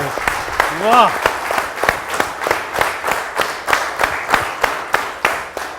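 An audience claps in a steady rhythm at a silver jubilee award show in Chitral, sharp even beats carrying on throughout, with a brief rising whistle early on.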